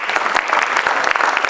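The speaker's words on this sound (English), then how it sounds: "So, should we get a rolling applause thing going?" An audience at a farewell party claps together in a brief, dense, steady round of applause that sounds close and lively, with no pauses.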